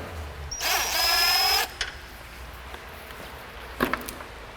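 An electric drill whirs steadily for about a second, then stops while an exhaust header is installed on an Acura Integra; a few faint clicks and a short mechanical burst follow later.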